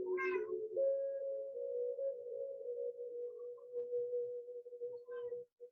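Trixie, a house cat, lets out a long drawn-out meow lasting several seconds, steady and fairly close, with a short chirp at the start and another near the end, no talking.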